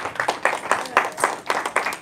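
A church congregation claps hands together in a steady rhythm of sharp, bright beats, about four per second, close and moderately loud with no talking.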